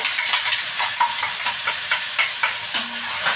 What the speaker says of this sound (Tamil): நல்லா இதை வதக்கிட்டேன்